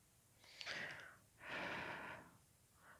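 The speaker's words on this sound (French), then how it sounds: "Ma respiration est calme, douce." During a calm meditation, two long, soft breaths are drawn and released close to the ear, followed by a fainter third breath, with no other sound.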